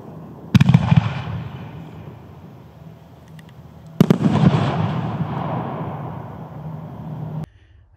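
Two large aerial fireworks shells burst loudly about three seconds apart, each a sharp boom followed by a long rumbling, crackling tail, typical of the bigger 1-3 inch shells in a professional fireworks demonstration.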